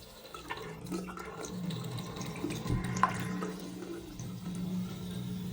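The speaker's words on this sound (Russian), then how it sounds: "Напор воды хороший." Water runs from a tap in an apartment bathroom, a steady close hiss and splash with a low rushing tone that continues throughout, with no voices over it.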